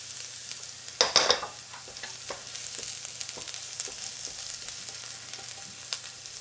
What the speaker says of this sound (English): This is a high heat wok thing. We're not sweating these, and they're going already.